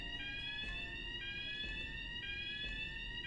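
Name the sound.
fire alarm ringing in the video game Tokyo Dark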